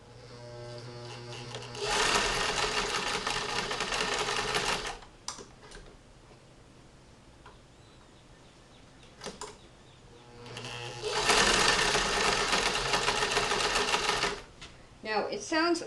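A 1959 Singer Spartan sewing machine with a new motor runs in two loud, rapid whirring bursts of a few seconds each, slightly rough from the bobbin area, separated by quieter stretches with faint clicks and handling.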